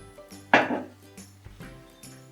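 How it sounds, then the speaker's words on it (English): Food is dropped into a saucepan during home cooking: one sharp metallic clatter, then a few lighter clinks and knocks of the pan, close by with no talking. "Put it in a saucepan"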